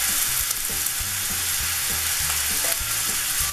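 Ground beef browning in a pan gives off a loud, dense, continuous sizzle and crackle with occasional stirring, close up and alone with no speech.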